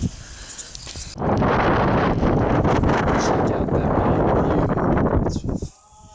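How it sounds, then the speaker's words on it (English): Strong wind buffets the microphone in a loud, roaring rush that starts suddenly and holds for several seconds before dropping away. "Freaking windy."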